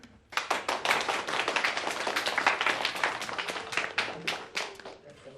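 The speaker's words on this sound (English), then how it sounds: "We're going to do a round of applause." A classroom group gives a round of applause, dense rapid clapping that starts abruptly and holds steady for several seconds, close and fairly loud, with no talking over it.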